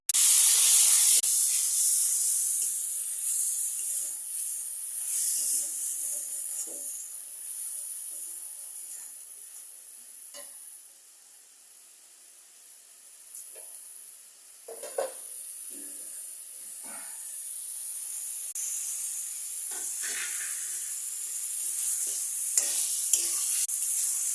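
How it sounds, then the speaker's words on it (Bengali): Green chili and onion frying in oil for a village-style egg curry, a loud continuous hiss and sizzle with intermittent stirring scrapes, easing off in the middle then building again. "ডিম রান্নার জন্য কাঁচা ঝাল পেঁয়াজ ভাজতেছি।"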